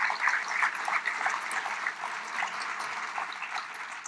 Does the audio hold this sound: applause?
yes